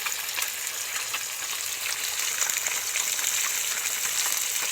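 Spicy fish curry cooks in a pan, giving off a steady close hiss of frying and sizzling oil throughout, with no voices.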